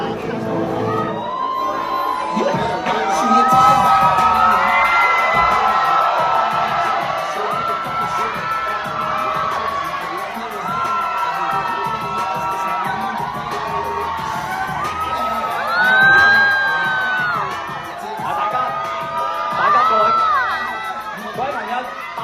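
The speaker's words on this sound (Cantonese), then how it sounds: "大聲啲歡呼" A crowd at a Hong Kong bodybuilding contest cheers and whoops loudly and continuously, with shrill shouts rising above the roar and swelling in waves, the loudest burst coming near the end.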